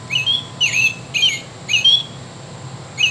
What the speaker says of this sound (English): American robin